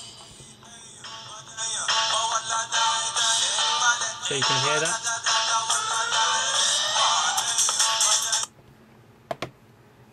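A smartphone ringtone on an Android Gingerbread phone plays loudly for several seconds as a busy melodic tune, then stops abruptly. A brief voice speaks just before it starts.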